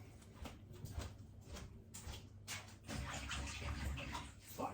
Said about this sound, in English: I'm just going to quickly rinse my hands off.